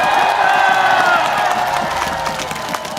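A large crowd at a political rally in Daegu applauds and cheers loudly and continuously, with scattered shouts and whoops rising over the steady clapping that eases slightly toward the end.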